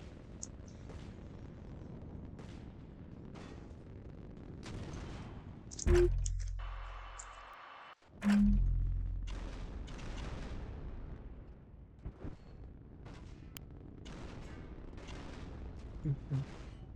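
Gunfire in a competitive team shooter video game, with repeated sharp shots and a couple of loud booming bursts around the middle, set under continuous commentary.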